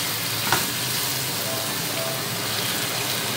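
Chicken shawarma mixture sizzles and fries steadily in a pan over a high flame, a continuous close hiss with a faint clink near the start.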